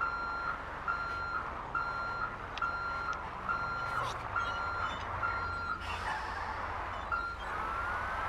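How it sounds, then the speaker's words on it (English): Reversing beeps from a semi-truck in GTA Online sound as a steady, evenly spaced series of loud electronic pulses over a constant engine rumble, with other game noise cutting in near the end. "This is like the fastest semi-truck ever."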